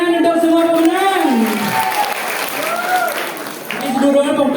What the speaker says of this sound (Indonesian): Ayo tepuk tangan untuk semua pemenang.